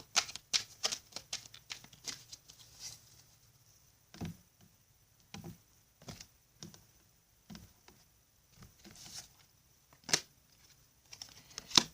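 A deck of tarot cards is shuffled and cut, making crisp, close riffling snaps in irregular bursts separated by quiet pauses, with no talk.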